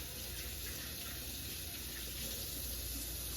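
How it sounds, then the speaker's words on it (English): Hands being washed under a running kitchen tap while seasoning ribs for a barbecue: a steady, close rush of water that stays constant throughout, with no speech. "Let's wash my hands again"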